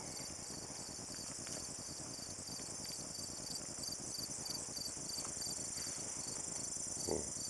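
Crickets and other insects chirp in a steady, dense high trill throughout, heard outdoors along a path near a creek fishing area, with no talking.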